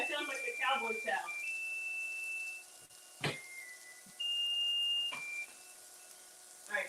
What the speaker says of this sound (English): All right, so we'll turn off the timer.